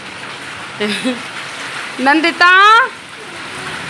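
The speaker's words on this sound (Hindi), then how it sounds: "तेज की बारिश हो गई है, भर भर के तेज" Heavy rain pours in Jaipur as a constant hiss of drops on surfaces beneath a voice calling out nearby in short bursts.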